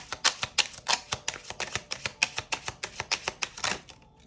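Tarot cards riffled and drawn, a fast run of crisp, close flicking taps in a steady rhythm for about four seconds before stopping, with no speech.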